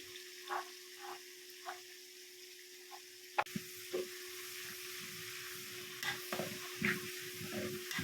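Curry leaves drop into hot oil while a fish curry is cooked. After a few faint crackles, a sharp hit marks them going in, and the oil bursts into a louder, steady sizzle that continues close by with popping spits.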